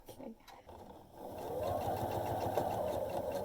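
A sewing machine stitches a pinch-snap coin purse: after a brief start, a steady, close mechanical whirr runs continuously, with a voice talking over it.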